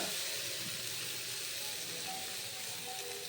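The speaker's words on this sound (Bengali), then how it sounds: "মশলাটা অলমোস্ট কষা হয়ে গেছে এবার সিদ্ধ করা আলু আর মটর দিয়ে দেব" Boiled potatoes and peas dropped into a pan of frying spice paste, giving a steady close hissing sizzle that holds evenly throughout.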